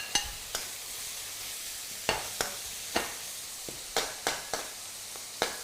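Garlic and carrot frying in smoking-hot pork fat on high heat for pork spring rolls, a steady low sizzle broken by scattered sharp clacks of stirring against the pan, with no talk.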